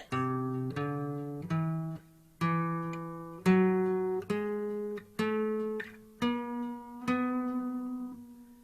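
A run of nine sustained synth notes stepping through an odd, out-of-tune sounding microtonal scale of five large and four small steps, each note struck and held, evenly paced and close.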